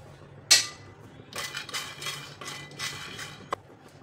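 Futane, already-roasted chickpeas, rattle and scrape in a dry pan during light roasting: a sharp metallic clink, then bursts of scraping and shuffling, ending in one small knock.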